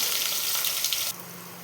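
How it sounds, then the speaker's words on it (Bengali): Chopped onions fry in a pan, a loud close sizzle that cuts off abruptly about two-thirds through, leaving a quieter low hum. "পেঁয়াজটা আমার ভাজা হয়ে গেছে"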